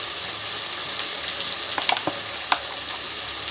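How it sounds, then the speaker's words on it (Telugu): Ginger garlic paste fries in a hot pan with a steady, moderate hiss, punctuated near the middle by a few sharp crackles and spoon clinks, with no one talking. "వన్ టేబుల్ స్పూన్ అల్లం వెల్లుల్లి పేస్ట్ వేసుకుంటున్నాను. 2 మినిట్స్ ఫ్రై అవ్వాలి."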